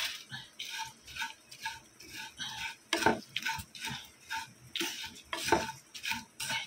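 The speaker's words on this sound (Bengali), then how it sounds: "চিড়ে ভাজাটা আস্তে আস্তে হোক" Flattened rice (chira) frying slowly in a pan, heard as a rhythmic series of scraping stirs roughly every half second with a soft sizzle underneath and occasional clinks of utensil on metal.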